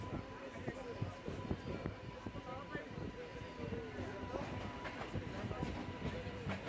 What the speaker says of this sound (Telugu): జనగాం రైల్వే స్టేషన్ దగ్గరికి అయితే వెళ్తుంది ట్రైన్.